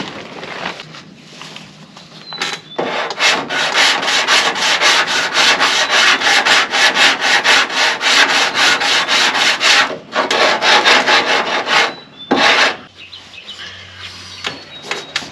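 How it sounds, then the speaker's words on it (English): Bondo filler on a rusty 2002 Ford F350 being board and block sanded with sandpaper: loud, rhythmic back-and-forth rasping strokes in quick succession, with a couple of brief pauses and no talk. "we'll get back to our board and block sanding it"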